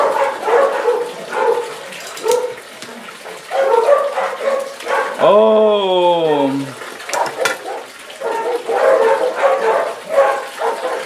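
Several dogs bark repeatedly at close range, with a drawn-out rising and falling howl midway, while a person exclaims once during work on a black-label juniper bonsai.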